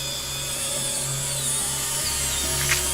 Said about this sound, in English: Once you're midway through, drill in shorter bursts.